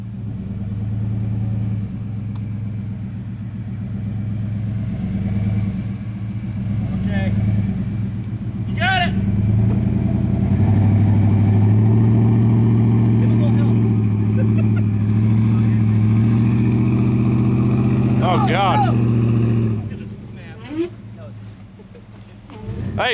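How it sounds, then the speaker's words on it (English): A Ford F150 pickup engine at night rumbles loud and steady as it revs hard to pull a stuck Chevy 1500 free, the drone holding for about twenty seconds before easing off, with people shouting over it. "Hey, give us some gas, Travis."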